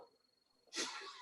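A single loud, sharp sneeze bursts out after a quiet moment at a community Rotary talent show performance, its noisy spray trailing off over the final half second.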